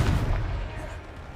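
A Confringo blasting spell goes off in the video game Hogwarts Legacy, a single short booming blast that fades quickly into a low rumble.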